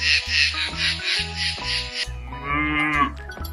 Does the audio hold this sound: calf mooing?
yes